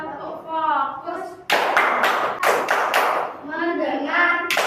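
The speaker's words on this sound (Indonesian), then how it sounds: "1, 2, 3. Tepuk fokus." An elementary school class performs a rhythmic group clap, sharp unison bursts of many hands in a patterned sequence, alternating with children chanting in between.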